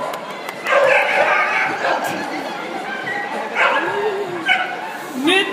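Dogs yip, bark and whimper excitedly during a team relay race at the Koira2013 dog event semifinal, in repeated short bursts over a background of voices.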